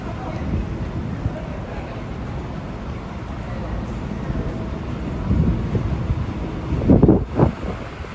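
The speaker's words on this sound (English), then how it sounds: "Pretty windy down here too, though." Steady wind buffets the microphone throughout, a low rumbling roar with a few stronger gusts near the end.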